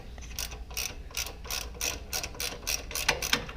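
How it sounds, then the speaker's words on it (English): Ratchet wrench clicking as 10 mm bolts come off a Coleman CT200U minibike, nine or ten quick bursts of close ratcheting in a steady back-and-forth rhythm, with no talk. "we're going to pull these bolts off? It looks like about a 10 mil."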